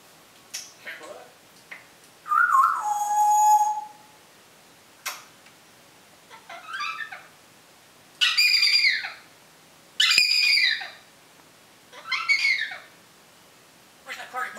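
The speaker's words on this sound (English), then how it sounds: "There's the bird." A pet bird indoors gives loud, close whistles, rising and falling squawks and short chattering calls in separate bursts, with quiet gaps between them.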